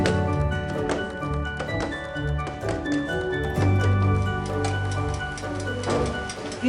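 A cake mould filled with wheat banana cake batter is tapped against a surface. A series of irregular knocks sits over a droning background hum.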